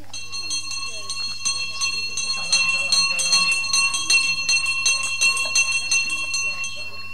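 A bell rings repeatedly to call people to a meal, a bright metallic clanging in an uneven rhythm that grows louder partway through, with someone talking over it and a steady low hum underneath.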